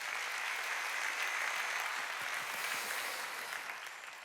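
Congregation applauding during a Sunday church worship service, a steady, fairly even round of clapping from many hands that holds for several seconds before easing off slightly at the end, with no talking over it.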